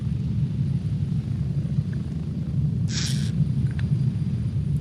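Steady rotor rumble of a helicopter in flight within a video game, a continuous low drone filling the whole stretch at close range, with a brief higher burst partway through.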